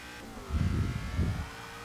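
A Ford Mustang engine revs twice in Forza 6 during a drift session, two swelling low-pitched surges a little over half a second apart, loud and alone with no talk.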